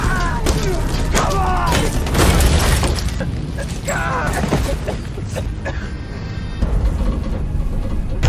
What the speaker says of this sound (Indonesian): mencoba memecahkan kaca belakang yang sebelumnya retak akibat terkena tembakan peluru, hingga ia berhasil selamat dari ledakan tersebut